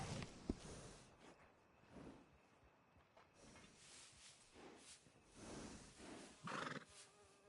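A horse whinnies in a PS4 video game, several neighs rising over soft hoof clip-clops and faint ambient background, with no talking.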